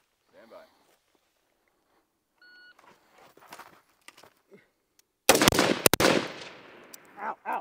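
Two rifle shots fired from the prone position on an outdoor range, sharp loud cracks close together followed by a decaying echo, after quiet shuffling footsteps, faint movement and a short beep.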